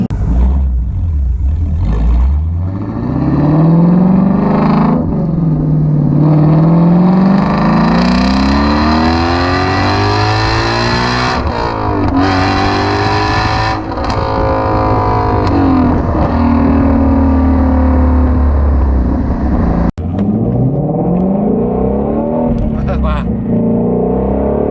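Shelby GT350R Mustang engine revving hard on a road drive, climbing through the revs with audible drops at each gear shift; loud, close and continuous for the whole stretch.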